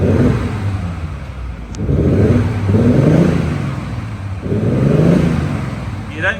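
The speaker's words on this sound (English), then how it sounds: "Okay, Dan, if you want to give it a little rev" A 2021 Audi S4 3.0 TDI V6 diesel saloon revved at standstill, three loud throttle blips rising and falling in turn, close up with a deep rumbling exhaust note.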